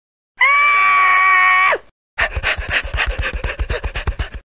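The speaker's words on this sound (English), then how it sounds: "and fled screaming down the street." A cartoon girl from a 1993 Living Books PC game lets out a loud, sustained, high scream lasting about a second and a half, followed by a rapid series of panting, huffing breaths as she flees.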